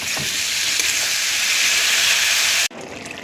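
A pan of potato and eggplant curry with salt hisses and sizzles loudly and steadily, then the sound cuts off abruptly near the end, leaving quieter room noise.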